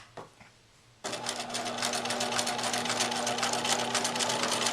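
Sewing machine stitching a one-inch guide line along the armhole of an apron, kicking in after a quiet second and then running as a loud, steady, close mechanical hum with fast regular needle ticks.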